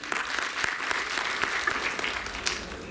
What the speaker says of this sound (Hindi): जोरदार के लिए ताली बजाएं